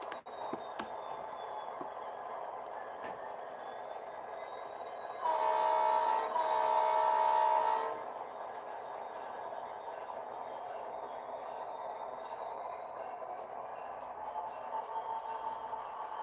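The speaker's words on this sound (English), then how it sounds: "I'm going to bring my other SD80 Mac up here" A model SD80MAC diesel locomotive sounds a steady horn for a few seconds at moderate distance, with a quieter hum and faint clicks from the layout before and after.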